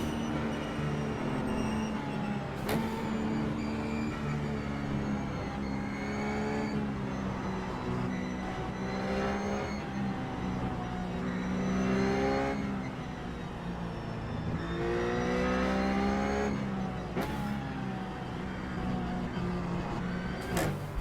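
Racing sim GT car from the Blanpain Sprint Series howls continuously, rising and falling through several gear changes and throttle lifts, loud and up close throughout, with no voices over it.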